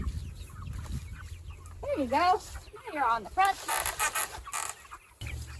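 Farm chickens in summer heat cluck and crow in a run of curving calls close to the microphone, while a person talks over them.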